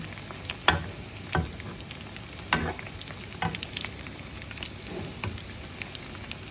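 Pork belly deep frying in oil crackles steadily at close range, broken by several sharp spattering pops, with no speech.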